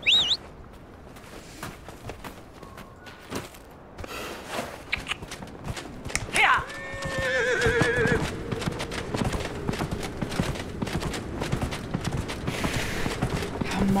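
A horse in the video game Dragon Age: Inquisition whinnies sharply once, then its hooves clip-clop in a steady, continuous walking rhythm. Quieter ambient sounds and brief game noises come first.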